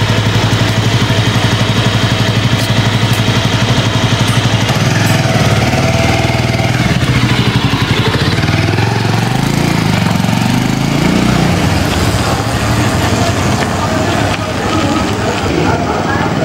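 A Bajaj Avenger Cruise 220 motorcycle engine drones loud and steady while being ridden at night, with a continuous rumble and wind rush throughout.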